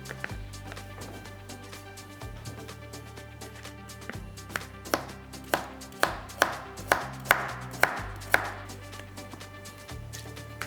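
Vegetables such as carrot, leek, celery and onion chopped finely with a knife on a board, a quick run of sharp close taps in the middle over a low droning background hum.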